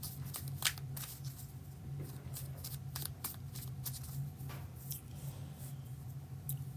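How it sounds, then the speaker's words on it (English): A deck of tarot cards is shuffled in quiet, irregular bursts of riffling and soft snapping close by, with a low steady hum underneath. "We got 3 more cards to shuffle into the deck."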